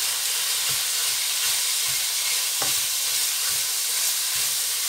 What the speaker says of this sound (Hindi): यहाँ जो कीमा रखा है ये डाल लेंगे और इसको भूनेंगे